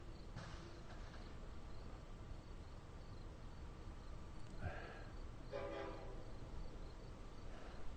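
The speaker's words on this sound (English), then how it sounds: "Here comes the train around the curve up there." A distant Long Island Rail Road train approaching around a curve at Speonk rumbles faintly, with a couple of horn blasts sounding in the middle and toward the end over steady outdoor noise.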